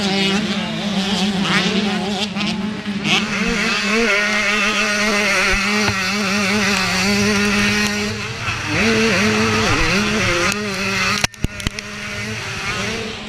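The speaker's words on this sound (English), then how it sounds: "John Barillo opens up 7, 8, 9, 10 bike lengths on Patrick DeLowry" Racing motorcycles roar past on a track in a loud, continuous wail, with engine pitch rising and falling through the gears and a sharp clatter near the end.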